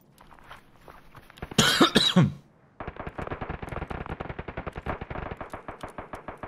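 AGS automatic grenade launcher firing in a hardcore-mode shooter game: a long, steady stream of rapid, punchy shots that follows a loud cough and a brief pause.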